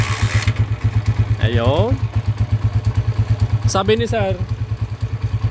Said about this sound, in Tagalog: smooth andar na yung motor mo